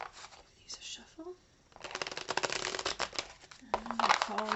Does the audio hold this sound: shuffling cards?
yes